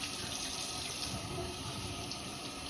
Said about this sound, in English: So I'm just going to run it under the water.